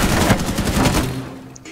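Rapid automatic gunfire in Rainbow Six Siege, shooting through a wall, a dense burst of close, loud shots that tails off near the end, with no talk over it.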